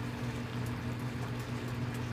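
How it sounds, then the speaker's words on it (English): Water boils away in a pan while a Beyond Meat burger is water-fried without oil, giving a constant soft bubbling and sizzling over a low steady hum. "the water starts evaporating. It just kind of boils away."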